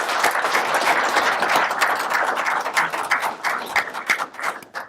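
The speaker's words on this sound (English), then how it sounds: "right now I'd ask that you give him a round of applause" Sustained audience applause at a public interactive forum on proposed Vermont gun laws, a dense wash of many hands clapping close by that thins and turns more scattered toward the end.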